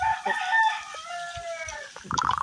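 In the video game Grow a Garden 2 (Garden Horizons), a rooster crows in a drawn-out call, followed by a burst of short clucks, close and clear with no talking.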